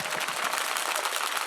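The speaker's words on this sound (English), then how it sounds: "Let's give Shani a round of applause" A keynote audience claps for a participant at a storytelling talk, a short, steady burst of fairly soft applause heard alone.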